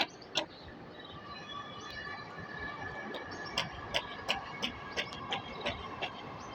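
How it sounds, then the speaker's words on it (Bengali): A metro rail train passes at a distance under a steady rumble, with a run of regular sharp clicks or clacks in the later seconds and a brief higher tone early on; no voices. "ট্রেন যাচ্ছে"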